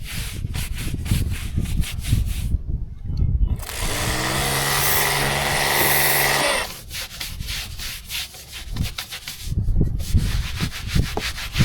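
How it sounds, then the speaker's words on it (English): A stiff brush scrubs a boat deck in rapid back-and-forth strokes, loud and close, pausing midway while a droning engine-like tone passes. "Now we've got on a brush out to get rid of the stubborn"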